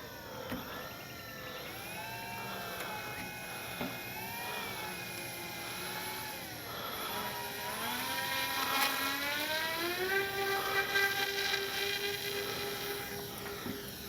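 Electric motor of an AVIOS PBY Catalina RC model seaplane flying at normal throttle over a lake, a distant whining drone rising and falling in pitch, growing somewhat louder toward the end.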